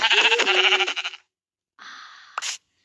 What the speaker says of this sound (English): Gotta kill that sheep.